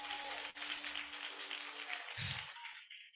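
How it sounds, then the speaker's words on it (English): Applause from a church congregation at a Women's Day service, a broad steady wash of clapping filling the room for about two seconds before fading out, with a brief low thump near the end. "Let's just give him a round of applause"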